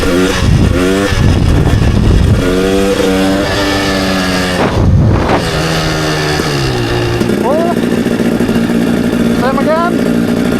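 A motorcycle engine revs hard and accelerates in third gear for a wheelie, loud and close with rising and falling pitch sweeps; a voice speaks briefly alongside.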